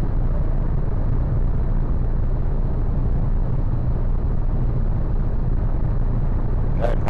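Tuned car engine pulling hard in fifth gear, a steady, loud, low droning roar that holds throughout without pause, ending with a brief sharp noise.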